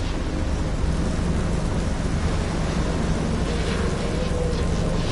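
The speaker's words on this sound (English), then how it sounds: "Yeah, that's a big storm there." A heavy thunderstorm in the video game Life is Strange: dense, steady rain hiss and low rumbling thunder fill the scene at a constant loud level throughout, with no voices over it.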